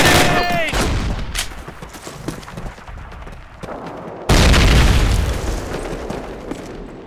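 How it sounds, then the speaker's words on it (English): A grenade blast in the Call of Duty World War II mission at Brecourt Manor, one loud sudden boom landing midway through steady close gunfire and battle noise, with shouted voices in the mix. "Enemy grenade!"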